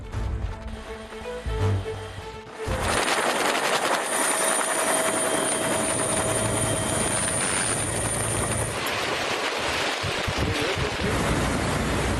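A helicopter rescuing flood victims in Sri Lanka thrums loudly and continuously, with a rushing, wind-like rotor wash, growing heavier after the first couple of seconds.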